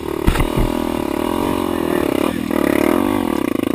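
A dirt bike engine idles and rumbles up close on a muddy trail, steady and loud, with a couple of sharp knocks near the start.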